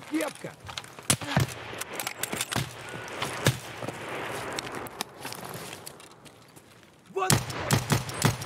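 Gunfire in the video game Escape From Tarkov, a rapid string of sharp shots through the opening seconds, then a pause before another close burst near the end, with game ambience in between.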